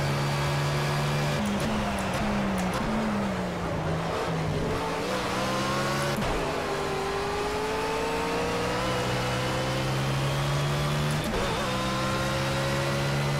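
BMW Z4 GT3 race car in Project CARS at Hockenheim, engine revving and pitching up through gears in a steady loud drone with shifting harmonic tones, no voices.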